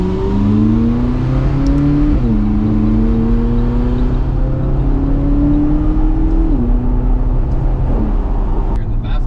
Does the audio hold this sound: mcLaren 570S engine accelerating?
yes